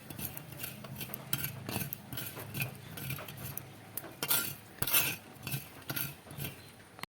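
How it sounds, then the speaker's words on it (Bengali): Fennel, coriander and cumin seeds are dry-roasted on a stove, producing a steady close rattle of seeds and scraping with metallic clinks and taps of a utensil against the pan, rising to a few sharper knocks near the end. "এইগুলোকে আমি একটু উনুনে ভেজে নেব।"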